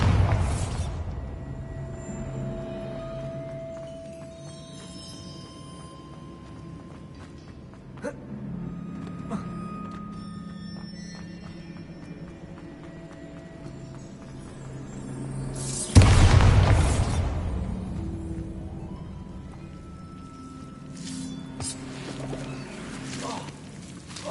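A Bombarda blast spell from Hogwarts Legacy bursts with one sudden loud boom partway through, decaying into a rumble over a low, humming game soundscape.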